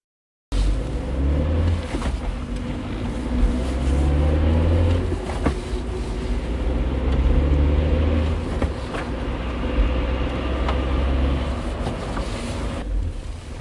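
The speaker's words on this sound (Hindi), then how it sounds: "और गाड़ी सिग्नल तोड़ते हुए आगे बढ़ गई।" A car driving forward through a red signal, used as a sound effect in a horror story, gives a low continuous engine rumble with wind-like noise that holds steady and close for over ten seconds.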